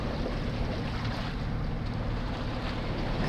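A sailboat motoring under engine at about four knots through swell off the Balearics, giving a constant low engine drone mixed with broad wind and water rush, loud and unbroken throughout.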